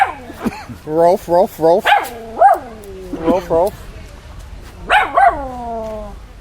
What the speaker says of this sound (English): I see those doggies right there.